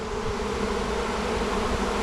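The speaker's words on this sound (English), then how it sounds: "You can hear the buzzing on the inside." A honeybee swarm being transferred from a bucket into a hive box, fanning and buzzing inside the box: a loud, dense, continuous drone heard up close, steady throughout with no voices.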